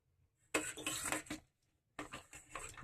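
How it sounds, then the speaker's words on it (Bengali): Potatoes tumble into a pressure cooker in two short, clattering bursts near the microphone, with quiet in between. "প্রথমে আলুগুলোকে দিয়ে দিলাম"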